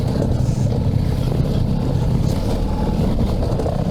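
Ducati Multistrada V4S motorcycle engine braking while descending a hill off-road, a steady, loud low-pitched engine drone with wind rush running continuously throughout, no talking.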